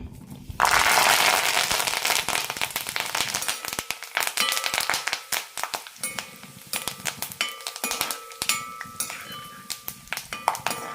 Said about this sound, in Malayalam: കുറച്ച് കറിവേപ്പില കൂടി വറുത്തെടുക്കാം